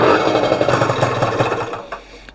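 A loud, close air-cooled moped engine fitted with a new cylinder chatters along, then cuts out and fades to near silence with a couple of faint clicks.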